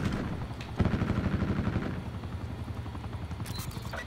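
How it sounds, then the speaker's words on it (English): An attack helicopter in Call of Duty Black Ops 4 thrums with a pulsing rotor beat, mixed with bursts of gunfire during a multiplayer match, loud and close with no voices. "There's an attack helicopter."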